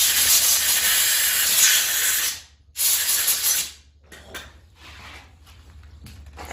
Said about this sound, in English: So let's take my air nozzle.